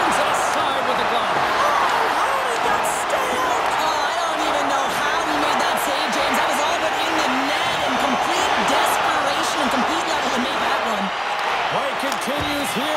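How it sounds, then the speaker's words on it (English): A hockey arena crowd in NHL 25 keeps buzzing after a glove save late in the third period of a Wild–Kings playoff game 7, a dense, loud, continuous roar with scattered claps and thuds under commentator talk. "this crowd's still buzzing after what we saw"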